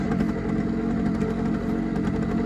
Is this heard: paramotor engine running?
yes